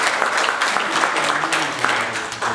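Audience at a Korea-US business friendship forum applauds steadily, a dense, even wash of clapping from a full room, with a faint voice underneath.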